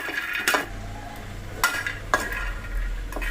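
Peanuts being stirred and roasted in a kadai: a spatula scrapes and clinks against the metal pan several times over a low background hum.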